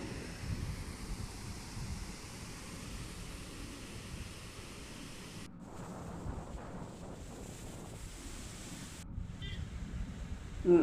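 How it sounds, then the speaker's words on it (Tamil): Fast-flowing river water rushes at the Kallanai dam, a steady broadband roar with gusts of wind buffeting the microphone throughout. "தண்ணி பயங்கர வேகமாக போகுது"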